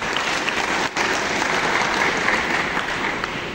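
Sustained audience applause at a student political gathering in Yogyakarta, many hands clapping densely and steadily at moderate loudness, with no talk over it.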